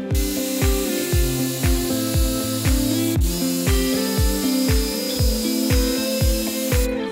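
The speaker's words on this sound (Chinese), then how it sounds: "那一样使用线锯机来处理" An electric jigsaw cuts an angled taper into a wooden chair leg during a furniture repair, giving a loud, steady mechanical buzz with a regular pulsing rhythm throughout, close and alone.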